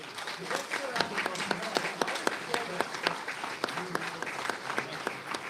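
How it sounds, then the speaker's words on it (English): Clapping rises from the audience after a Republican primary debate, a moderate round of individual claps spaced out and fairly near, with the crowd murmuring underneath. "Please, let's give them a round of applause."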